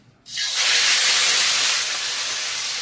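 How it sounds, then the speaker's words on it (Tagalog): A sudden loud hiss of oil spitting and sizzling, like fish dropped into hot oil, holding steady then easing slightly. "Ayan guys, magprito ng isda guys."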